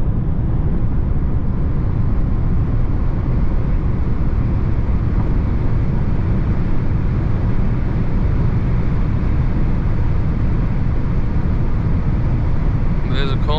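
A Mercedes C63 W206 cruising at high speed on the Autobahn at night in 9th gear around 240 km/h, a loud, steady cabin roar of engine, tire and wind noise with no break.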